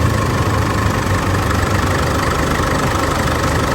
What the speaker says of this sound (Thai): ก็เดี๋ยวสตาร์ทิ้งไว้เลยนะ ว่าจะดับลงเองไหมนะคันนี้